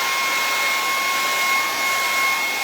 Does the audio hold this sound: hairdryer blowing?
yes